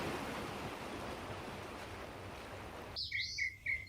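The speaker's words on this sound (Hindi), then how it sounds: "समंदर की लहरें" Ocean waves give a steady, even wash of surf that fills the scene, then drop away as a few bright bird chirps ring out near the end.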